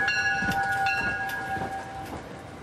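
A commuter train bound for Wall Street, serving Ridgewood riders, rumbles close by with steady wheel noise and a sustained high metallic whine or horn-like tone running over it.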